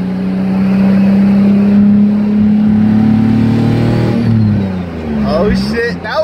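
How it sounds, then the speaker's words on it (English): Turbocharged VQ35 engine pulling under acceleration on a public road, a loud rising engine drone that holds steady, then dips as the revs fall, with excited talk over it near the end. "You heard that turbo starting to suck up?"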